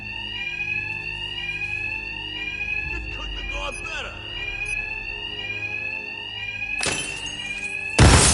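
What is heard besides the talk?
bank alarms ringing in video game Batman: Arkham Knight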